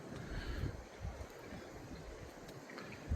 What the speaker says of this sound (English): the wind's kind of blowing a little bit